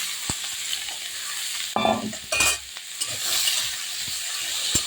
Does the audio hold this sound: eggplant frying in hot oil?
yes